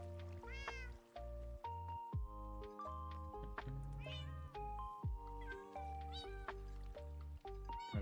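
Cats meowing repeatedly in Minecraft, several overlapping blocky game meows over steady game music and ambient sound, loud and close throughout.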